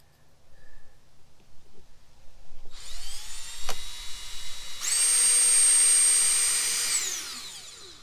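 Power drill driving screws into stainless steel for a solar wax-melting heater, a rising whine that winds up and holds steady before spinning down, loud and close with no talk.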